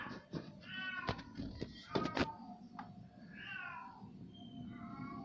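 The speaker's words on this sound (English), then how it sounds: "it's a kitty" A cat meows several times, with clicks and bumps and brief voices scattered around the calls, then a longer, rising meow near the end.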